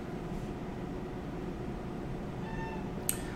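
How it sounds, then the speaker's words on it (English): A house cat lets out a short meow near the end after being accidentally elbowed, a faint rising cry over steady room noise and low hum, close by and brief. "I just elbowed my cat."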